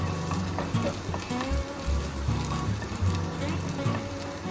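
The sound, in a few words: small onions frying for Kerala rasam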